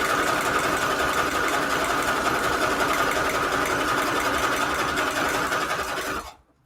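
A sewing machine stitches through junk journal pages in one loud, steady, continuous run, close up, then stops abruptly near the end.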